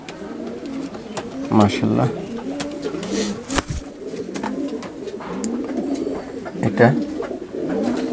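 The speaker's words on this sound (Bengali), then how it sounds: "প্রিয় দর্শক, এটা গোল্ডেন মাদি কবুতর" Steady low cooing from a female golden pigeon fills the space nearby, running beneath a man's brief spoken remarks.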